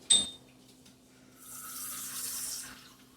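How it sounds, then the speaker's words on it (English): About a quarter cup of water poured into a pan of shredded chicken for tamales, a short soft trickle after a brief clink, rising to a gentle steady pour and fading out, close by. "we're going to pour in about 1/4 of a cup of water in here"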